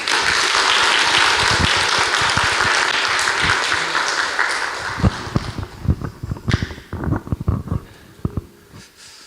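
Dense, loud applause from a church congregation at a Lutheran joint worship service marking the Reformation anniversary, sustained then thinning into scattered individual claps that trail off.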